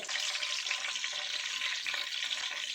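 Green chilies frying in ghee in a pan for mutton qeema, a dense steady sizzle with crackling, close and continuous, no voices.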